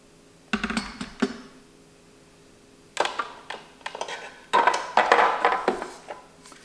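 Plastic parts of a Cuisinart food processor's dicing kit being handled, with scattered clicks and rattles in short bursts between quiet pauses.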